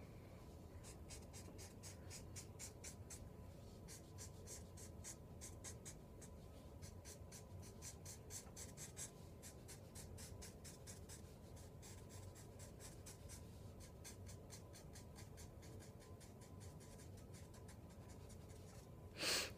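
Pen or pencil strokes drawing a beard on paper, quick repeated short scratches in a steady rhythm, close and soft, with no talking.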